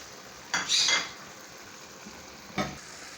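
Ground beef keema is stirred with powdered spices, salt, turmeric, garam masala and cumin in a karahi, giving two short scraping, sizzling bursts close by with quiet pauses between.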